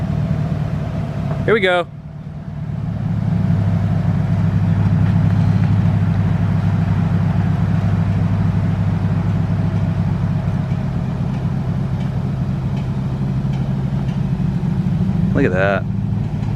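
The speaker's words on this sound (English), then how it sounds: "So Brian is currently moving my truck right now." A truck drives off and idles with a steady low engine drone that carries through the whole stretch, while a person talks briefly over it.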